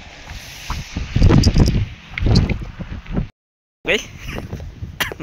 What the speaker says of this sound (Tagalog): Lakas na yung hangin.